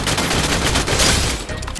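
Rapid gunfire from the Free Fire battle royale game, a dense continuous burst of shots filling the whole stretch at steady loudness, with no talking.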